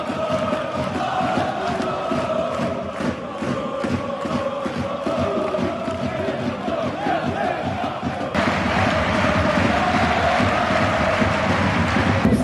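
Football crowd in a French stadium cheering and chanting in homage to striker Eduardo at the kickoff, a sustained loud roar with rhythmic clapping that swells toward the end.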